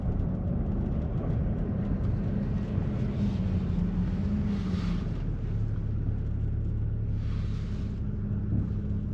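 A 2014 Nissan Frontier pickup truck driving steadily, with a constant low engine and road rumble from inside the cab, a slight pitch shift midway and occasional faint wind hiss.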